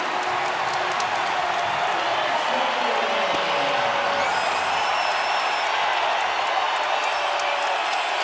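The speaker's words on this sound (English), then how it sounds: "Largest lead of the game for New Mexico, bringing the sellout crowd at the pit to their feet" Sellout basketball crowd at the Pit in New Mexico cheering, a dense sustained roar of applause and shouting with a commentator talking over it.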